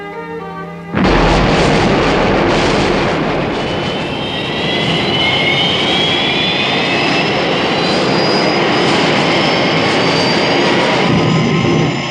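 Thunderbird 1 roars in a Thunderbirds episode, a loud jet-like aircraft engine that bursts in suddenly and holds a steady, powerful rumble with a rising whine.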